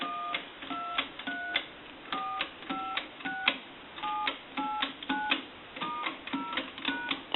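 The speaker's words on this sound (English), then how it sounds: "we'll dial our numbers out" A payphone keypad dials out a number in DTMF tones, a quick run of short, evenly spaced dual-pitch beeps in groups, clear and alone against a faint background hum.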